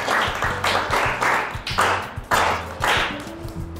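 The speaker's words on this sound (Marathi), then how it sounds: "चला, वेदांसाठी टाळ्या वाजा सगळ्यांनी." A group of children claps together in a classroom to reward a boy named Vedant after a reading check, loud close hand claps in a steady repeated rhythm with some voices mixed in.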